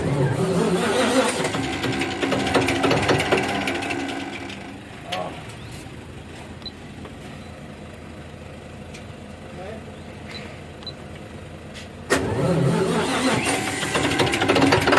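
A Scania 600kVa sound-attenuated generator engine runs with a loud, steady drone, easing to a quieter hum in the middle before surging back to full strength near the end.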